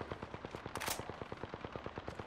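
Rapid automatic gunfire from the Apex Legends video game rattles in a steady, evenly spaced burst of about twenty shots, fairly quiet and with no talk over it.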